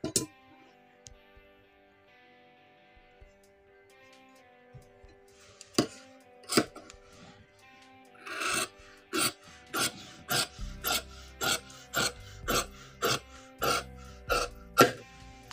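Scissors slicing through coat cloth for a 39-inch chest three-piece suit: faint scattered snips at first, then a steady, close run of crisp, evenly spaced cuts with no talking.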